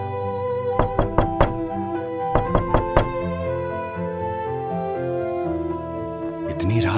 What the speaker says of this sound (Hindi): अचानक ठक ठक ठक दरवाजे पर दस्तक।